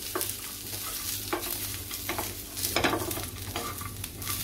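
Onion and coconut are sautéed in a pan until browned, with a continuous soft sizzle and repeated scraping stirs of a spatula close by.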